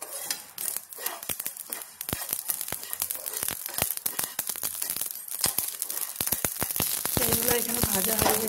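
Whole spices for an amla pickle, including black peppercorns, fenugreek, and yellow and black mustard seeds, dry-roast in a pan with rapid irregular crackling pops and scraping stirs that grow denser toward the end.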